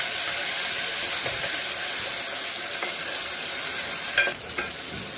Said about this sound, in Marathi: आता आपण याच्यात लसूण घालणार आहोत, जो की आपण ठेचून घेतलेला आहे खलबत्त्यामध्ये